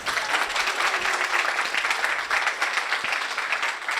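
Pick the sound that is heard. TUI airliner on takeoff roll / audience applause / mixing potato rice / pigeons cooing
audience applause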